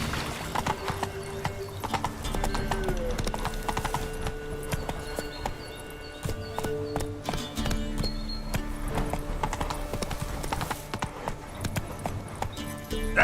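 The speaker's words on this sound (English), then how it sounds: "Come on, Roach." The horse Roach gallops in The Witcher 3: Wild Hunt, steady rhythmic hoof clip-clops with an occasional whinny, all over a game soundtrack and ambience.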